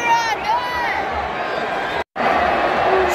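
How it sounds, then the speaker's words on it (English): Dense stadium crowd roaring and cheering as a Mexican wave circles the ground at a Cronulla Sharks rugby league match, a sustained loud wash of voices broken by one brief cut. "Another Mexican wave."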